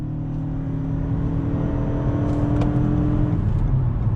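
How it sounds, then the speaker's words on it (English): A 2021 Toyota Avalon Nightshade XSE hybrid accelerates hard with a little wheel spin, its engine drone rising under steady road and tire noise, heard from inside the car with no talking. "But on throttle, a little bit of wheel spin."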